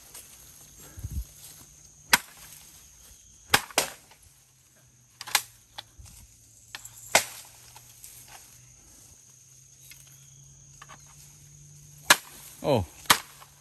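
A blade chops through a pole while bird netting is cleared on a mountainside, landing about six sharp, separate whacks spaced a second or more apart over a quiet outdoor background.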